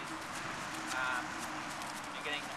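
A horse's hooves clip-clop faintly on the ground while it is schooled to move in and out of a circle, a soft, steady beat half buried under constant outdoor noise.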